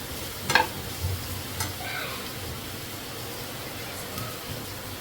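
Carrot gently sautéing in a pan, a soft, quiet sizzle with a few stirring scrapes and clinks near the start.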